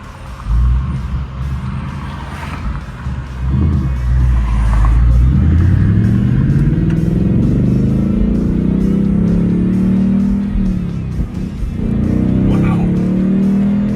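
A 2021 Ford Mustang Mach 1 V8 in Sport Plus mode revs and accelerates hard, a loud deep roar climbing through several gears with brief dips at each shift, heard from inside the car with faint voices in the background.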